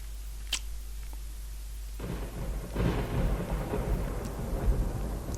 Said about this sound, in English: Dramatic lightning